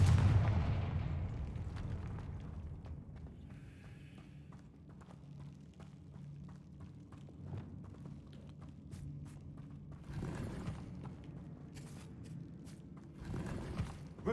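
Confringo, a fire spell in Hogwarts Legacy, lands with a heavy booming blast, followed by a low rumbling tail and a couple of later thudding bursts.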